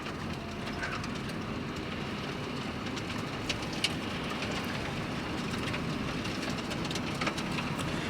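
Gravel and slush spatter continuously against the underside of a van driving a snowy mountain road in the Great Smoky Mountains, a dense steady rumble and hiss with scattered sharper ticks, fairly faint and without talk.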